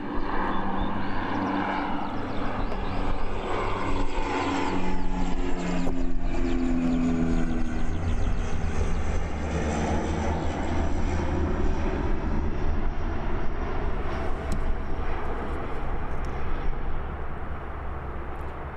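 A small ATR or Dash turboprop airliner comes down to land at foggy Christchurch Airport, its loud steady engine roar and whine holding close throughout before gradually dropping in pitch as it passes into the distance.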